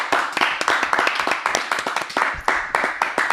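Small group clapping on a show set, brisk irregular hand claps close by, lasting a few seconds with no talk over them.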